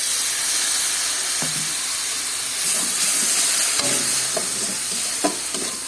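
Water hits frying ginger-garlic masala with turmeric in a pan, setting off a loud hissing sizzle with steam, while a spoon stirs and scrapes with several clicks, close and continuous.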